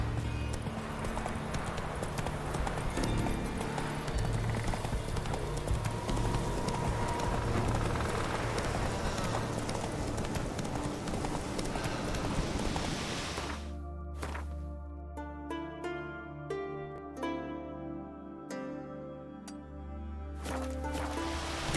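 Horse hooves gallop in Witcher 3, a fast, steady clip-clop that continues throughout, loud under a dense wash of game sound and thinning to sparser, clearer hoofbeats in the second half.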